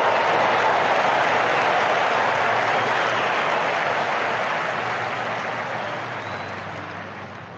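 Loud, dense applause from a cricket stadium crowd at a South Africa A vs Sri Lanka A one-day match, greeting a batter's six and fifty; a steady roar of clapping that gradually fades toward the end, with no talk over it.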